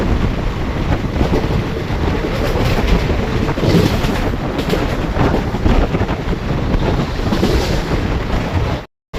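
The Hadapsar Express train runs at steady speed without stopping, giving a loud, continuous rushing rumble of wheels and wind noise that stays constant before cutting out briefly at the end.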